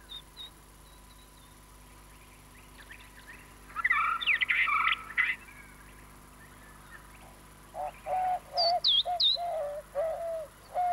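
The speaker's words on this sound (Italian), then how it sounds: "Questo uccello che sta di casa nel gigantesco cactus è il picchio gila." A Gila woodpecker perched on a giant saguaro cactus gives two bursts of sharp, rolling calls, the first brief and the second a repeated series of rhythmic notes, fairly close over a quiet background.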